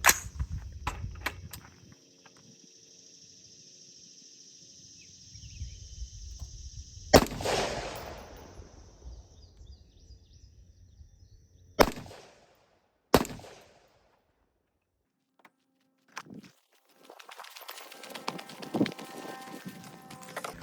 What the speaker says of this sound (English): let's take some shots and I'll show you the results